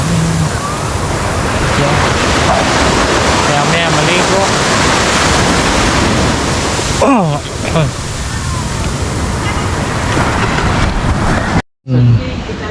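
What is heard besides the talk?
ocean waves at the seaside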